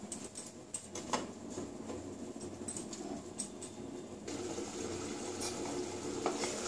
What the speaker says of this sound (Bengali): বড়াগুলো অনেকটা জল টেনে নেয়, একটু ফুটবে